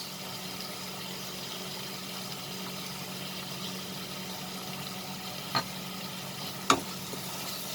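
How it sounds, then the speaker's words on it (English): Ghugni masala sautéing in a pan after salt and garam masala have gone in: a soft, steady low sizzle with two brief scraping clicks near the end, no talk. "Saute this now for a minute."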